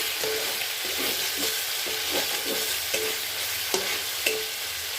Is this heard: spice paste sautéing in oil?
yes